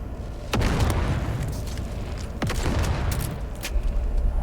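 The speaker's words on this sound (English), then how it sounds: "Stop throwing grenades at me!" Grenades going off in a video game, with two deep booming blasts a couple of seconds apart and a rumbling, crackling game soundscape continuing loudly throughout.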